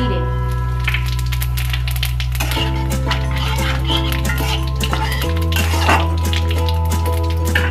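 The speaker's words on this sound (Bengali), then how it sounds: "এবার ওই তেলে ফোড়ন দিয়ে দেবো তেজপাতা, শুকনো লঙ্কা," Bay leaf, dried chili and whole cumin tempered in hot oil in a home kitchen while cooking masala potato and okra, giving a steady sizzle and crackle with occasional utensil clinks, close and continuous throughout.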